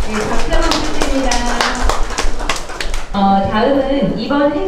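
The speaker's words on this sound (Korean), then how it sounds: "네, 박수 한번 부탁드립니다." Clapping after a tape-cutting ceremony at an art exhibition opening, brisk claps running continuously under loud talk and music-like tones, close and busy for the whole stretch.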